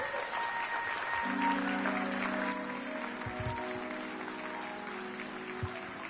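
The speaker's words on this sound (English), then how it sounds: "you all give a big round of applause for this beautiful American family." Mourners at a funeral applaud steadily for several seconds in a large hall, a dense wash of clapping with a sustained musical tone running beneath it.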